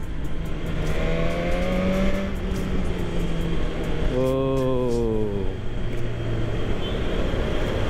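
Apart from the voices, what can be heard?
BMW S 1000 R four-cylinder motorcycle engine revving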